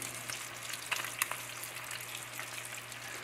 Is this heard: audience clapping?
no